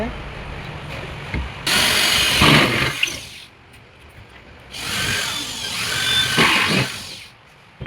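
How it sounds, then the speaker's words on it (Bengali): A power drill bores holes for nuts in the right side of a wooden hydraulic bed frame, running in two loud, sustained bursts of a couple of seconds each, separated by a quieter pause. "এবার খাটের ডান দিকটার কাজ চলছে, ফুটো করে নাট লাগানো হবে।"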